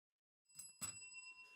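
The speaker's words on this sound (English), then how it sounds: "here's my bell." A hand bell rung at a podcast contest gives two quick bright strikes followed by a faint ringing decay, quiet and alone.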